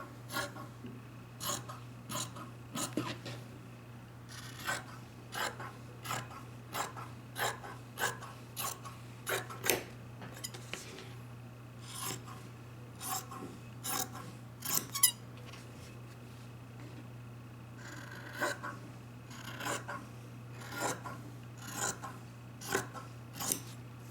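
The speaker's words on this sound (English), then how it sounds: "And then we'll cut around the outside." Scissors snip in a steady series of crisp, close cuts through fabric around the edge of a sewn zipper pouch, with a low hum underneath and no voices.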